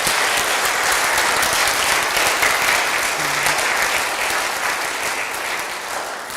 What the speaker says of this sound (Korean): 우리 하나님께 찬양의 박수 올려드릴까요?